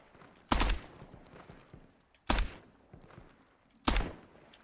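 Three loud, sharp gunshots from a video game gun ring out one at a time, spaced a second or two apart, each with a quick decaying tail.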